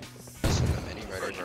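Gunfire from the Rust video game, during a clan fight on a US server, breaks in as a loud sudden burst of shots and impacts, with a voice talking at the start.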